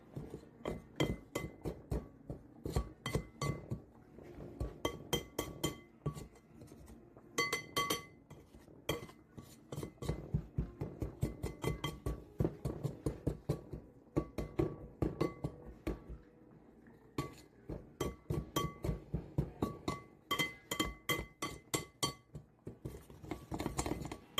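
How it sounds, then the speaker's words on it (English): A metal pastry cutter repeatedly strikes a bowl while cutting butter into flour, making rapid bursts of sharp clinking and scraping taps in uneven rhythmic runs with short pauses between them, close and fairly quiet. "we're going to take our pastry cutter and we're just going to cut the butter into the flour"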